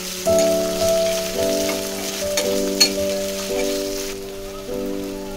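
Onions frying in hot oil in a pan while cooking palak dal, a dense steady sizzle with faint stirring scrapes, close and without talk.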